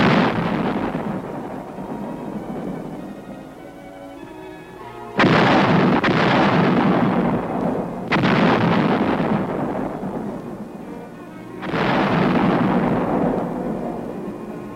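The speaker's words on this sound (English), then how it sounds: "155 howitzers fire a sharp warning at the advancing Chinese" 155 mm howitzers firing from emplacements near the Capitol building in Seoul, three or four heavy booms with long rumbling decays, loud and spaced several seconds apart.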